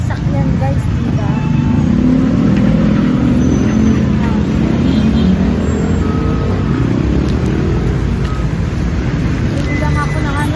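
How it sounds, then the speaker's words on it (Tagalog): Dense street traffic near a pharmacy in Jaro, cars and other vehicles rumbling and passing close by in a loud, continuous roar, with talk mixed in underneath. "Maraming sasakyan guys, diba?"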